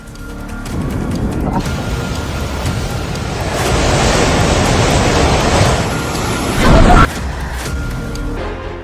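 Floodwaters in Nepal rush in a loud, close, roaring wash of noise that swells in the middle, with a sharp burst near the end before easing off.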